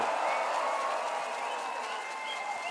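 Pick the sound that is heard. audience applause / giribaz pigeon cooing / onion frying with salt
audience applause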